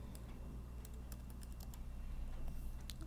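Rapid typing on a computer keyboard, keys clicking quietly in quick irregular bursts with a faint background hum.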